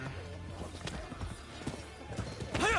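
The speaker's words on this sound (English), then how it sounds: "Let's get a horse here." Horse hooves clip-clop in the video game Rise of the Ronin, a steady trotting patter with a brief whinny near the end, set against low game ambience.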